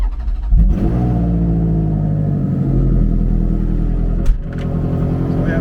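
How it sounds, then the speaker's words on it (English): A Ferrari 430 Challenge race car engine fires up with a sharp catch, then settles into a loud, deep rumbling idle with a brief throttle blip near the end, close by. "So you just start the car and you're able to put it in gear and drive."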